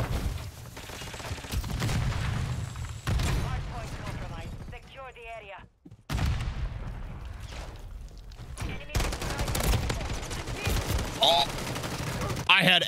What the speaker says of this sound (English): I shot first and then stopped shooting.